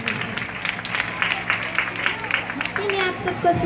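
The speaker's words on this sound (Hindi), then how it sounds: "तालियां।" Audience applause at a church Sunday school Christmas program, steady clapping from a crowd lasting throughout, with faint murmuring mixed in.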